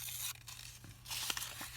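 Paper coaster being ripped by hand for a junk-journal embellishment, a few short, close tearing and crinkling bursts with no talk.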